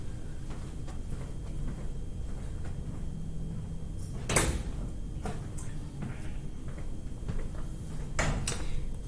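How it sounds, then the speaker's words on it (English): A door being shut in a university lecture room before a molecular genetics class, one sharp knock near the middle and another short thud near the end, over a steady quiet room hum. "So, I'm going to close the door."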